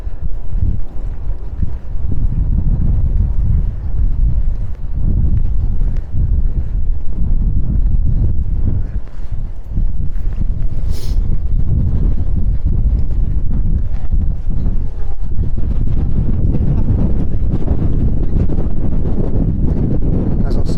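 Breeze buffets the microphone on a busy London high street in Hounslow, a loud, continuous low rumble of gusty wind noise that covers the street sounds throughout.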